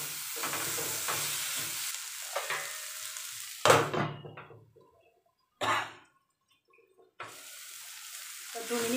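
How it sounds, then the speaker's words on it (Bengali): Chopped tomatoes go into a hot frying pan for tawa chicken, bringing a sizzle and stirring scrape that breaks into sharp bursts between near-silent gaps, with the sizzle returning steadily at the end. "এবার দিয়ে দেবো কুচি করা টমেটো।"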